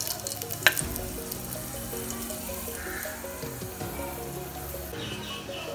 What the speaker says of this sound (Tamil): நம்மளோட oil வந்து சூடாயிச்சுங்க இப்போ நம்ம பட்டை மாவு ஏலக்காய் எல்லாம் போட்டுறலாம்